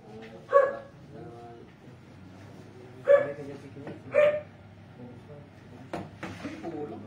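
A puppy yaps in a few short, sharp barks spaced across several seconds, close by, with people talking in Filipino around it.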